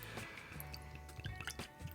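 Whisky pours from a George Dickel 15-year single barrel Tennessee whisky bottle into a glass, a brief close liquid glug and trickle with small drips lasting about two seconds.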